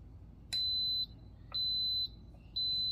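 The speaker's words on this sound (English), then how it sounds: "Wait for the beep." Three loud, steady electronic beeps from an Instant Pot pressure cooker, each lasting about half a second and evenly spaced, set against a low background hum with no talking.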